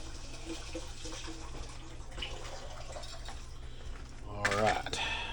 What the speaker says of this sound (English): let me get out my whisk here. I'm going to wash it off.